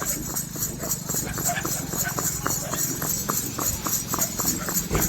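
Steady clip-clop of two mares' hooves walking slowly on a hard road, an even rhythm of hoofbeats throughout, with a constant hum in the background.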